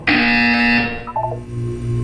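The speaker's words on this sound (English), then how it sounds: "When you hear the buzzer, look down at the floor." A loud electronic buzzer from the Portal 2 video game sounds once for under a second, then short descending chime tones follow against a low background hum.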